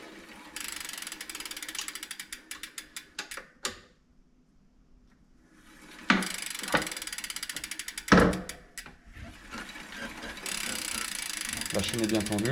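Bicycle chain tensioner being tightened against the frame, with rapid ratcheting clicks in bursts, a quiet pause, then more ratchet runs and a sharp metallic knock, close-up.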